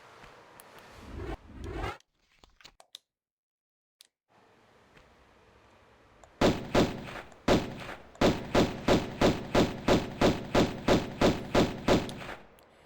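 Pistol gunfire at a gorilla in Tomb Raider: after a few scattered thumps and a quiet stretch, a rapid, evenly spaced series of sharp shots rings out, about a dozen crisp cracks in steady rhythm.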